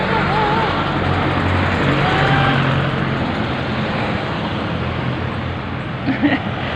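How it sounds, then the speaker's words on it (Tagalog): Heavy nighttime road traffic, with many cars passing in a continuous loud roar of engines and tires, while voices talk faintly over the steady noise. "Hindi kayo makatawid. Maraming sasakyan."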